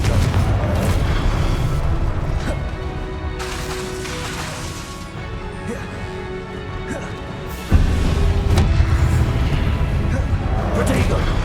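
A Confringo fire spell explodes in Hogwarts Legacy as a heavy, rumbling blast amid dense combat noise, with a sharp new boom partway through and voices mixed in.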